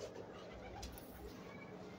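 Faint low cooing from a female Choi Sahib pigeon drifts through a noisy backdrop, soft and somewhat distant, with a possible murmur of people nearby.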